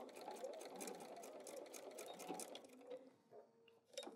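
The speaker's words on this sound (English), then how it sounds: "Let's head back to our sewing machine." A sewing machine stitches fabric for a quilting project, running in quick bursts of rapid mechanical ticking that pause and restart, close and clear, with faint background sound.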